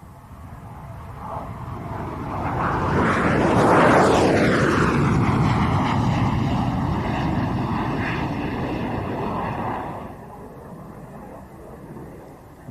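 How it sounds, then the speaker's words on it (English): A Sukhoi Su-25K attack jet, the export version of the Su-25, passes close overhead at an air tattoo, its engine roar swelling to a loud peak with a sweeping Doppler whine, then fading away. "enjoy this lovely little video of a Sukhoi Su-25"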